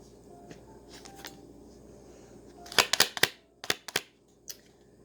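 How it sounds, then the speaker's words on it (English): Playing cards are pulled out and handled, with crisp snapping flicks and riffles in a quick cluster, close and fairly loud after a quiet start, alone without talk. "let me get some cards out here"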